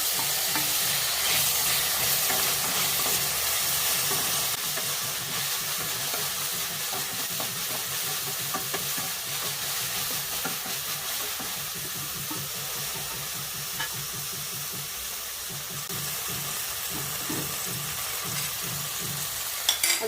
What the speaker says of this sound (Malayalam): ഇനി അതിലേക്ക് തക്കാളി അരിഞ്ഞത് ചേർക്കുന്നു.